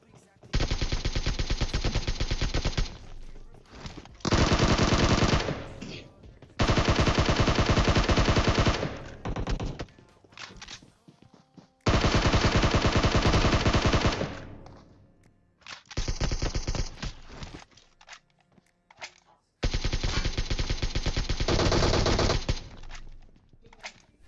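Automatic gunfire in PUBG Mobile as a player pre-fires, with about six long, loud sustained bursts separated by short pauses and quiet gaps.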